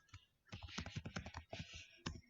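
Quick bursts of key clicks as code is typed on a computer keyboard, a close, fast run of taps with a brief pause before a final few strokes, quiet and without talk.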